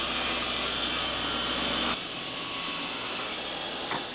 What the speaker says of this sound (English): we set the blade on the table saw at a 45-degree angle